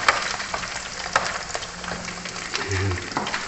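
Garlic fried rice (sinangag) being stir-fried in a pan, a steady low sizzle broken by scattered scraping and tapping strokes of a utensil, with a brief voice partway through.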